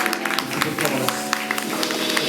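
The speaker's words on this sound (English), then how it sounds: "Clap one time for Sacramento area" Audience clapping and cheering for the poets at a spoken-word night at the Blacklight Lounge, a scattered burst of hands and crowd noise that mixes with voices and background music.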